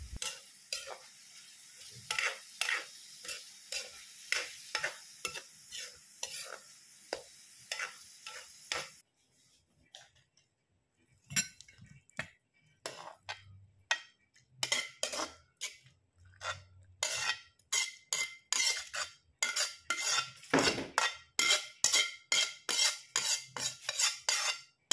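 Bitter gourd (ampalaya) sautéing in a pan, with a continuous sizzle broken by repeated sharp scrapes and clacks of a metal utensil against the pan, brief pauses between bursts, no talking.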